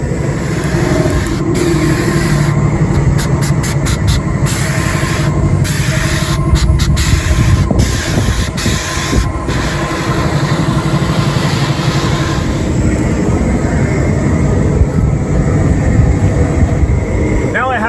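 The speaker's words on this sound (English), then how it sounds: "Right before I install the asphalt, I'm going to tack coat the base asphalt and the sides for better adhesion." Tack coat sprayed over base asphalt and its edges before paving a residential driveway ramp: a loud, steady hiss that runs without a break, with an engine droning underneath.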